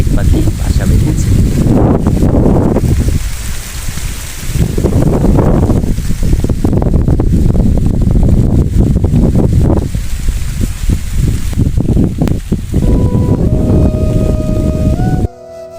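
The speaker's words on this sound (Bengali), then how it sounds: "বন্ধুরা, অনেক জোরে হাওয়া বইছে।" Strong wind blows outdoors beside a house with trees, buffeting the microphone in loud rumbling gusts that swell and ease repeatedly, with faint tones near the end.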